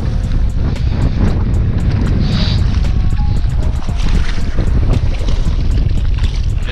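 Loud, constant wind roars and buffets the microphone on a riverbank in early March, a steady rushing noise that fills the whole recording.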